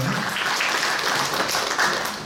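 Audience applause at a Catholic human-rights Sunday seminar on labour policy, greeting a research institute director before his talk; steady, dense clapping fills the room for a couple of seconds with no voices over it.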